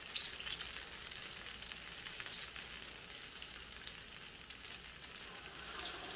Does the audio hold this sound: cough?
no